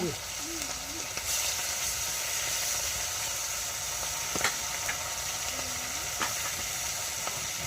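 Oil fries in a pan while a pointed gourd and hilsa fish curry is being made, producing a continuous soft sizzling hiss with occasional small crackles and a faint voice briefly in the background.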